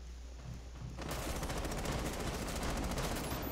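Sustained automatic gunfire aimed at a window in Rainbow Six Siege, a quiet lead-in breaking into a dense, continuous burst of rapid shots that holds loud to the end with no talk over it.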